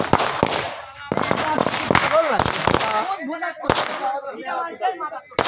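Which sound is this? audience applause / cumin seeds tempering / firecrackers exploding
firecrackers exploding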